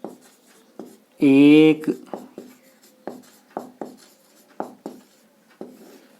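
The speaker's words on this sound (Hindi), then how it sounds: "मैं यहां लिख देता हूं तब तक।" A teacher writes a maths question on a classroom board, with a series of sharp taps and strokes spaced through the passage. A brief loud tonal sound cuts in near the start, and a voice speaks a word.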